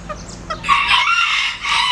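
A bantam rooster crows loudly nearby, one drawn-out call rising after a few soft clucks.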